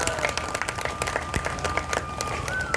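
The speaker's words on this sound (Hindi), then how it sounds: "इनके लिए ताली बजाओ एक बार।" An audience at a devotional ISKCON gathering claps, a rapid, uneven patter of many hands that carries on throughout, with a faint steady tone and some voices mixed in beneath.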